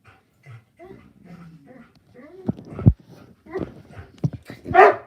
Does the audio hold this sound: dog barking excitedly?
yes